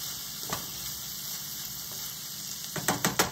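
Lemon being stirred into a hot, sizzling dish in a pan, a soft continuous sizzle broken by a few clinks and scrapes of stirring near the end.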